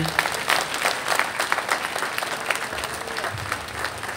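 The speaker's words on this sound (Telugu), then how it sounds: "గట్టిగా చప్పట్లు కొట్టండి." An audience claps together in a hall, with a dense, steady patter of applause running evenly throughout, fairly close and without voices over it.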